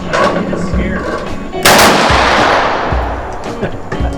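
Shotgun shell fired at an outdoor shooting range, giving one loud blast with a long rolling decay, with other distant shots and background noise around it.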